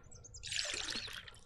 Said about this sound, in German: Wir kippen das Wasser rein.